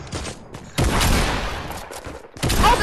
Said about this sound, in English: Oh god, he has a pump and he's shooting me.